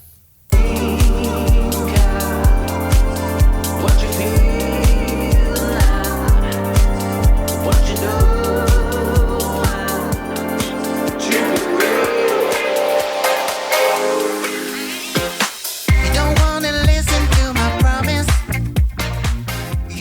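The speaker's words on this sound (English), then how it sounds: "now I can mix in track 2 into track 1 just by using the crossfader and listen out for some sweep effects" Two tracks are mixed on a Reloop Mixtour Pro DJ controller using the crossfader, with a steady thumping beat and a swooping filter sweep midway before the second track's pattern takes over.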